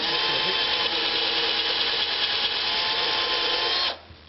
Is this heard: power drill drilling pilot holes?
yes